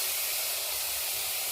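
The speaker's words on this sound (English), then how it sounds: "we are going to start by boiling the meat" Beef boiling in a pot of water for a Kenyan beef stew, giving a steady, soft hiss and bubbling simmer with no voices.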